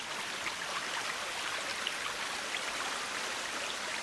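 Steady flowing water in the survival game The Forest, a continuous broadband wash with faint droplet-like flecks, even and unbroken throughout.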